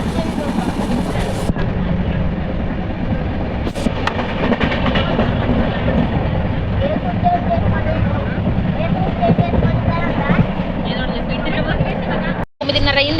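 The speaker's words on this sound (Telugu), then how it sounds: "ఇప్పుడైతే వచ్చింది 3:30కి రావాల్సింది 5:30కి అయితే వచ్చింది ట్రైను" A passenger train pulls into a railway station with a loud, continuous rumble and rattle of wagons close by, while voices are heard over the noise.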